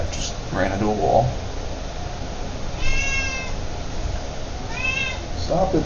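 A house cat meows several times indoors, short pitched calls spread across a few seconds, heard under steady background noise at moderate loudness.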